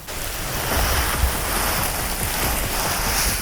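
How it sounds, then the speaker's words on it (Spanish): Rain falls steadily at a campsite with no tent, a broad, constant hiss of drops that stays even and fairly loud throughout. "Ya empezó la lluvia."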